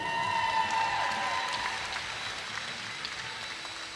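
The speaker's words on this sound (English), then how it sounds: "They got one more big round of applause for Martha King." Fairly faint applause from the crowd at a women's timbersports championship as a competitor leaves the stage, a steady wash of clapping with tonal background hum and music-like lines over it.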